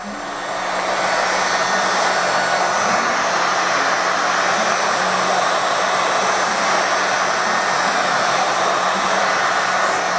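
A heat gun runs steadily on its low heat setting while softening snowshoe binding material, a loud continuous blowing whir that holds nearly unchanged for about ten seconds with no talking.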